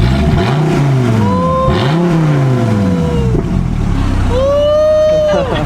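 A Dodge Viper engine revving loudly and close, with repeated rising and falling sweeps of engine pitch and a final climbing rev, strong and unbroken from start to finish.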